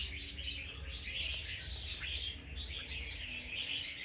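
A wild-caught red-whiskered bulbul from Lạng Sơn sings a steady stream of bright chirps and warbles, close and clear over a low background rumble, with no voices.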